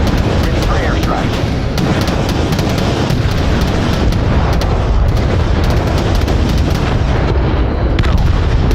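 Airstrike explosions in the RTS game Crossfire Legion, a loud unbroken barrage of booming blasts and rumbling artillery, with a voice speaking over the din.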